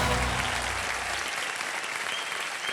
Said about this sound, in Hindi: अब तालियां।